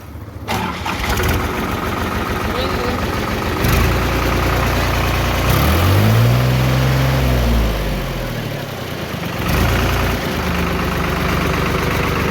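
A New Holland tractor engine cranks on the self-starter and settles into a loud, steady diesel idle, with a brief rising whine from the cranking partway through and a continuous low rumble throughout.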